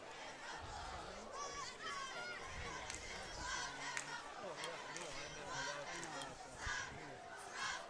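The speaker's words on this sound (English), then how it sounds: "Cheer squad's loud." Cheer squad at a Wildcats high school varsity football game yells and chants in a noisy, continuous wash of crowd voices, with shouts rising over the steady stadium chatter.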